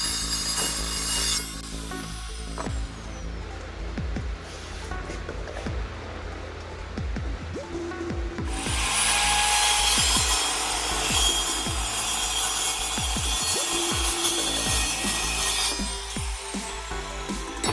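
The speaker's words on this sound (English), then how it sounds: "I used the evolution to cut those rails to size" Evolution saw cutting steel rails to size for a plasma/water CNC table frame, a continuous loud grinding, rasping cut running throughout with a harsher, brighter stretch in the middle, no talk.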